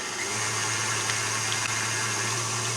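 An electric mixer whisks eggs and sugar at medium-high speed, giving a steady close whirring drone with a low motor hum underneath, constant throughout and with no talking.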